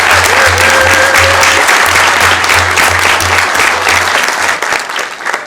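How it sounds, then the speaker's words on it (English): Loud, sustained applause from a crowd honoring student athletes at a Sacramento City Council meeting, steady clapping that fills the room for several seconds before thinning slightly at the end. "Give them a round of applause,"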